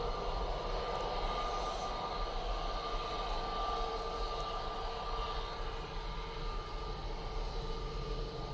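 At Manchester Airport, a departing airliner bound for Rome gives off a steady, distant jet roar that holds constant and fairly faint throughout, with no talking.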